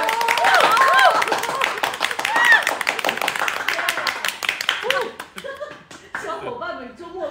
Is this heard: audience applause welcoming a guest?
yes